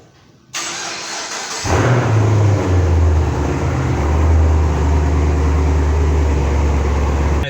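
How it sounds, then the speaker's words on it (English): An old Camaro cold-starts by remote: a brief cranking whir, then the engine catches with a loud rumble at about 1.7 seconds. It settles into a steady, throaty high idle with slight wavering. "Let's do a remote start."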